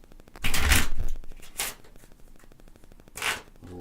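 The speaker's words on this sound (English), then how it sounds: "Here's how I shuffle." Deck of playing cards riffle-shuffled quickly by hand, giving two loud rapid fluttering riffles a second apart, then a quieter patch and a third riffle near the end.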